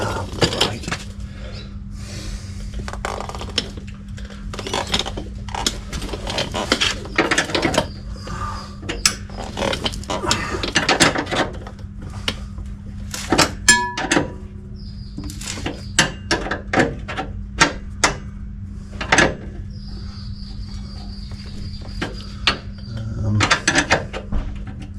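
Metallic clinks, taps and scrapes of a spanner working a bolt on a Mopar big-block race car, scattered sharp hits over a steady low hum, close by, with a little speech mixed in.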